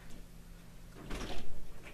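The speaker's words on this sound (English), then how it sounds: "Buffy scratching the door" A pet scratches at a door: a short, scuffling burst of scraping and rattling about halfway through, fairly faint in a quiet room.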